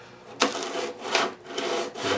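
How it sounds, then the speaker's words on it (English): Coarse 80-grit sandpaper scrubbing across a scratched wooden guitar soundboard, heard as three or four close, rasping strokes in an uneven back-and-forth rhythm with no talking. "now we've got this 80 grit that we use just to get the real craggy stuff off"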